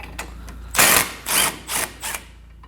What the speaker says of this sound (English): Next up, we're going to have this 16mm bolt. Go ahead and also remove it. Using a 16mm socket,